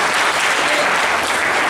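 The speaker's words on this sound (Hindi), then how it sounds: "जोरदार ताली बजाई जाए" Loud, dense applause from a gathered crowd of workers at a wage-agreement meeting in Mandideep, steady and sustained without a break.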